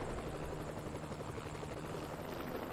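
A helicopter from the video game Lollipop Chainsaw gives a steady, loud rotor thrum with a continuous low engine drone, holding at an even level throughout with no speech.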